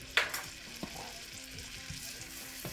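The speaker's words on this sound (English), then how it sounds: "I'm going to go ahead and stir this in with the butter until it gets all incorporated" Flour is stirred into melted butter to make a roux, a low steady sizzle with a sharp clink near the start and soft periodic scrapes of the spoon, close and quiet.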